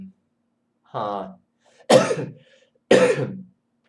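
A short throat-clearing sound is followed by two sharp, close coughs, spaced about a second apart in an otherwise quiet room.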